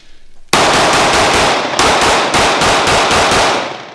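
A Sig P365 pistol fires a rapid string of about seven loud, sharp shots in close succession, each report ringing into the next, heard up close with no talking over it.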